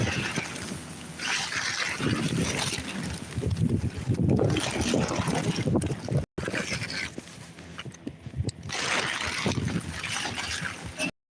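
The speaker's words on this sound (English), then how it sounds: "The wind won't fucking stop." Wind blows hard across an outdoor microphone, a loud, continuous rumbling buffet with gusty swells and brief dropouts, no clear talk over it.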